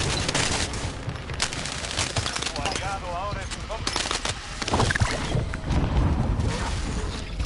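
Dense, rapid gunfire fills a zombie video game match in Rebirth. The shots crackle loudly and continuously under excited talk from players.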